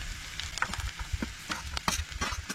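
Grated coconut roasting in a pan for a Goan mud crab curry, with a soft steady sizzle broken by irregular scraping strokes of a spoon stirring it close up.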